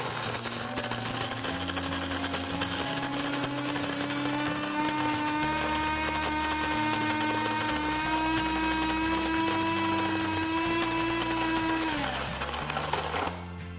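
An electric burr coffee grinder set to medium grinds beans with a steady, loud motor whine that rises slightly in pitch, then winds down and stops near the end.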